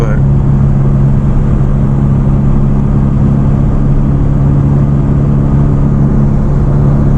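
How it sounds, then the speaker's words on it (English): A small four-cylinder engine in a 2016 Hyundai Veloster Turbo drones loudly and steadily from inside the cabin, a constant mid-pitched hum with no talking. "the car is quite loud, especially for a little 4-cylinder that it is"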